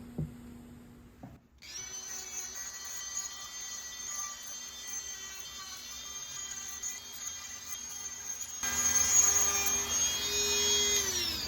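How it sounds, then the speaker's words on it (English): A small motorized drum sander whirs steadily with a constant hum, then grinds louder as the edge of a glass beer bottle is pressed against the spinning drum. "we're going to take this drum sander, and we're going to sand out these edges"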